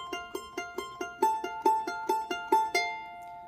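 A plucked charango plays a short phrase from the Andean tune Virgenes del Sol, bright repeated notes in an even four-per-note rhythm, close and clear with no voices.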